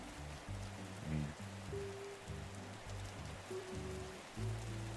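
Steady rain falls across a cozy village in the survival game Lost Lands, a continuous soft hiss of drops pattering on surfaces, with low-pitched game music running beneath it throughout.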